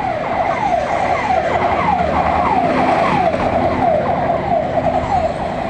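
A fire truck siren wails in steady repeating up-and-down sweeps, loud and close, dominating a street scene with traffic rumble beneath and no talk.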